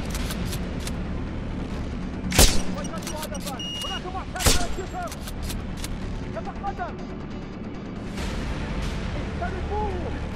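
Two loud sharp sniper rifle shots in Sniper Ghost Warrior 2, a couple of seconds apart, each a sudden crack, over a busy bed of game sounds and music.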